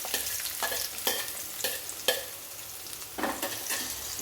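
Onion sizzling in a pan with fennel seed tempering for a pea and potato kurma, with steady frying hiss broken by regular spatula stirring scrapes roughly every half second, close up and without talk.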